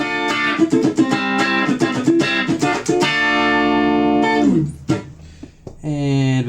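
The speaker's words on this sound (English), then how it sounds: "Within each category we've got plenty of other nice trebly Strat sound there." A clean, trebly Stratocaster electric guitar plays a quick run of bright plucked notes, then a few sustained ringing chords that fade, near and fairly loud.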